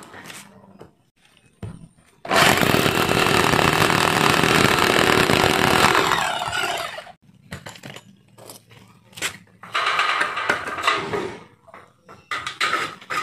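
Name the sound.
power drill drilling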